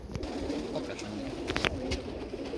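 White and black homing pigeons cooing softly amid a busy outdoor background, with a few fluttering rustles of wings.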